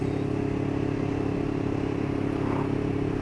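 Honda CB500S motorcycle engine running steadily while riding, a loud continuous drone with constant clatter and wind, no clear separate gear-change breaks.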